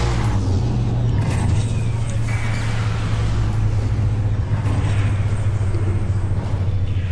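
A vehicle engine in Watch Dogs drones at a steady low rumble throughout, loud and continuous, with a strong low hum and no clear revving.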